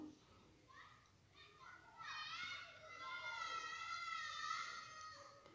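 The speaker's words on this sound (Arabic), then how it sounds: "حتسمعوا صوت الاولاد قاعدين يلعبوا برا" Children play outside in the distance, their high voices calling and shouting faintly and continuously, swelling in the second half, heard from indoors.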